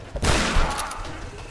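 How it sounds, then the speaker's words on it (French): A shotgun blast in the Tomb Raider video game, a single loud close boom with a sustained rumbling tail, followed by brief trailing clatter. "Fusil à pompe."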